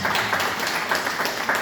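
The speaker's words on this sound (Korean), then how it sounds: "우리 열정적인 강의해 주신 우리 이원도 목사님 다시 한번 박수 부탁드리겠습니다" An audience at a Daejeon NCC pastors' seminar applauds the lecturer, a steady wash of many hands clapping at moderate volume without a break.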